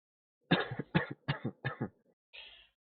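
Several harsh coughs come in a quick, close run of about five bursts, each with a short gap, then a final softer, breathy cough. No one talks.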